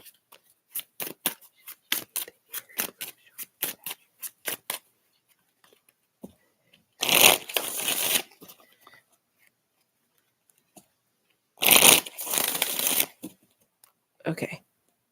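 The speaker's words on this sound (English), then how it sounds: "So I'm going to shuffle again." Tarot cards are shuffled in quick rapid riffles of crisp close clicks, followed by two longer bursts of rustling shuffle separated by quiet pauses, and a short final flick.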